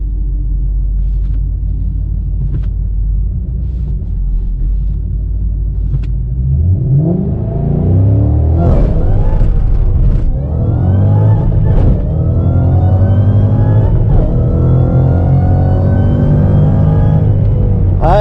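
A turbocharged LS-powered Camaro launches at a drag strip at night with its tires spinning, a loud low rumble that builds into rising revving as the car pulls away, no voices heard.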